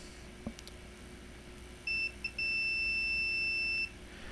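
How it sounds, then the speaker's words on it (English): A multimeter's continuity tester beeps as its probes bridge a fuse inside a Toshiba Satellite laptop: a clear steady electronic tone, briefly broken at first, then held for about two seconds, near and alone with no talk. "if you connect to both sides of the fuse and it beeps, that means electric does pass through the fuse."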